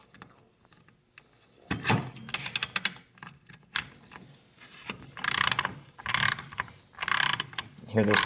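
A Mastercraft ratchet wrench at the 1/2-inch size gives close, rapid bursts of clicking as its teeth turn, stopping and starting in short runs.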